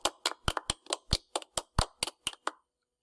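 A person claps their hands about eleven times in a brisk, fairly even beat, each clap sharp and close, ending in silence.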